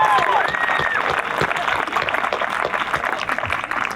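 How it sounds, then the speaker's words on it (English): Graduation ceremony crowd giving a round of applause, sustained dense clapping filling the hall, with a couple of whistles rising over it near the start. "Round of applause for the audience being here today."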